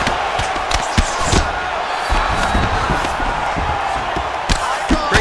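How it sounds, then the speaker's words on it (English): A large arena crowd roars and cheers in the EA Sports UFC fighting game as fighters get back up to their feet, a loud, dense wall of noise punctuated by sharp thuds and slams. "huge pop from the crowd as the fighters get back up to their feet"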